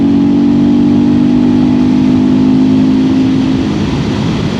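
A 2025 KTM 390 Enduro R motorcycle with a DNA Stage 2 air filter and Coober decat, rolling on in sixth gear from 50 mph, gives a loud, close, steady engine drone with a strong low hum under wind and induction noise, and no talk.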